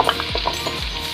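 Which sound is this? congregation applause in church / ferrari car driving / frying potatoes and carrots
frying potatoes and carrots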